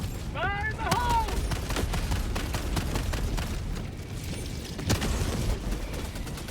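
A grenade goes off in Helldivers 2 during a solo battle against the Illuminate. A short shouted voice line comes first, then a dull booming blast rises out of ongoing distant gunfire and combat rumble.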